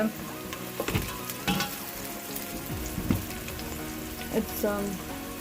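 Butter browning in a pan for methi rice, a busy continuous sizzle and frying crackle with occasional stirring scrapes, close and steady.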